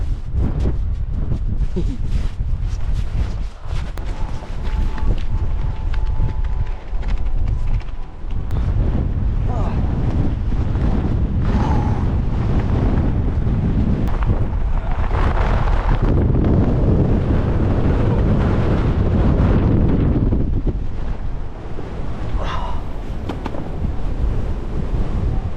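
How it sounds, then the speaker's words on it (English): Strong wind buffets a hilltop on a hike, a loud, continuous roaring rush with heavy gusts hitting the microphone the whole time, with faint speech now and then beneath it. "the wind is crazy"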